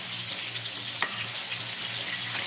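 Banana fritters (maruya) frying in hot oil give off a steady, close sizzle with soft bubbling crackle, continuous throughout with one brief sharper pop midway.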